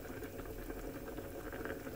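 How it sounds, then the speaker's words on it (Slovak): Water boiling in a pot of rice, a steady soft bubbling simmer heard close and fairly quiet, with no voices over it. "primerané množstvo vody dáme zovrieť a vodu dolejeme"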